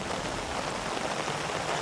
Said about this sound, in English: It's raining, but it's not cold